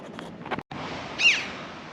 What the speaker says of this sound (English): that black bird on the cliff edge there is a chuff, very noisy